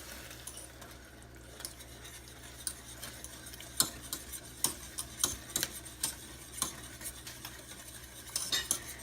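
A metal whisk stirs brown sugar syrup in a pan for caramel pecan sticky buns, light clinking taps against the pan that start sparse and quicken into clustered strikes, faint and close with no talking.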